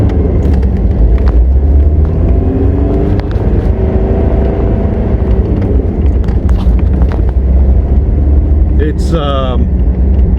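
A turbocharged Mitsubishi Pajero 4x4 engine roars hard at full throttle, a loud continuous rumble with rising revs, heard from inside the vehicle with heavy road and wind noise.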